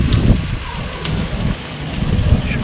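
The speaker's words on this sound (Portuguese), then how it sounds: "hoje tá ventando aqui fora" Steady outdoor wind rushes and buffets the microphone beside a barbecue grill where flank steak is being cooked in butter, a continuous low roar with gusty swells across the whole moment.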